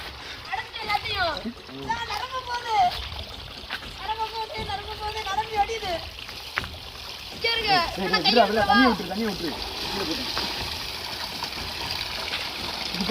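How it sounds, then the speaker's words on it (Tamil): Water from the mountains runs along an irrigation channel in a hill forest, a steady rushing wash heard under several people talking close by. "நீர் பாசனம் போகுது அங்க இருக்கு நீர் பாசனம் இது கா மேலே மலையிலேருந்து வர்ற தண்ணி"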